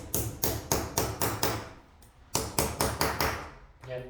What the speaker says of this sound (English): I will use my hammer, bring it down, very down.